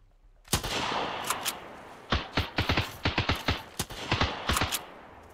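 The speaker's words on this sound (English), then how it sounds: "Where are the shots coming from?" Enemy gunshots in the Sunkenland video game: loud, sharp reports, first a sustained volley, then a string of distinct rapid shots in uneven rhythm, close and dominant.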